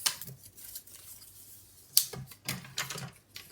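Scissors snip off excess cover material while a hardback memory book is being covered, giving a few close, crisp cuts with soft handling rustles between them.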